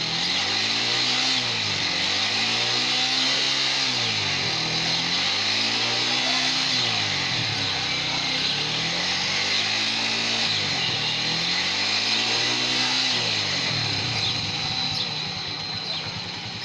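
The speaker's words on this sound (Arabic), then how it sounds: "اسمع كده صوت المكنه." A motorcycle engine, after a fix for misfiring, runs close by, revving up and down in repeated smooth swells over a continuous buzzing idle, then settling near the end.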